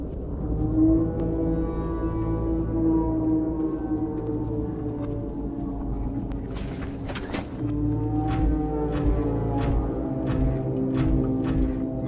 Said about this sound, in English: That is the sound of whales, I think.